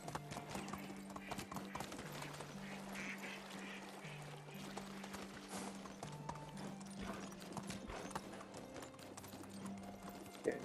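Rhythmic hoofbeats of a ridden horse in the medieval village game Medieval Dynasty, quiet and continuous, set against a soft layer of background music with shifting low tones.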